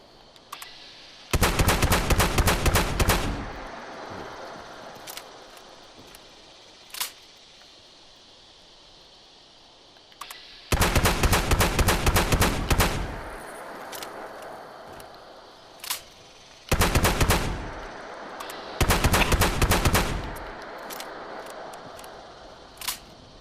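Loud bursts of rapid automatic gunfire in the video game Fallout 76, arriving in three long volleys with a few single shots between them and quieter ambient gaps.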